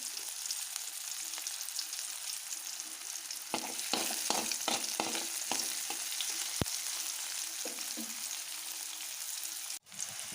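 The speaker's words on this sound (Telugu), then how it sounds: "ఈ ఆనియన్స్ ఇవన్నీ ఇప్పుడు అవన్నీ బాగా వేగిన తర్వాత" Onions frying in a pan for Bombay chutney hiss softly and steadily, with a run of quick scraping stirs in the middle and a sharp knock near the end, nearby and without talk.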